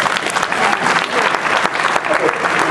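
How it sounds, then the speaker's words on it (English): An audience gives a round of applause after a speech, a dense burst of many hands clapping, loud and close, with a faint voice mixed in. "Let's give them a round of applause"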